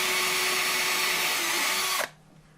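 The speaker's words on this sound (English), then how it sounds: "But I'm drilling." A power drill bores steadily into pine wood for a birdhouse, a loud continuous whine for about two seconds before cutting off abruptly into quiet.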